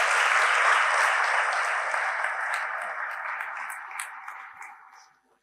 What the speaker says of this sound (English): He needs a big round of applause for the person.